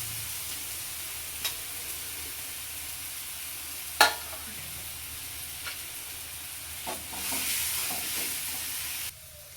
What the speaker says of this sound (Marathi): आणि आपल्याला हा छान बटाटा असा परतून द्यायचा आहे.